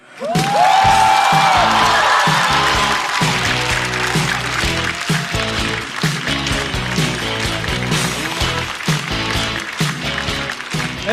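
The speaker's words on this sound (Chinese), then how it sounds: "让我们掌声欢迎" A studio audience at a stand-up comedy show claps and cheers to welcome the next comedian, a sustained, dense wash of applause with whoops, loud and near throughout.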